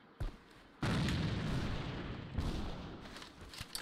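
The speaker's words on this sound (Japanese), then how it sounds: "手榴弾を使うぞ" Grenade blasts in the online shooter AVA, a short pop followed by a loud, sustained booming roar and a second lighter burst, close and alone without talk.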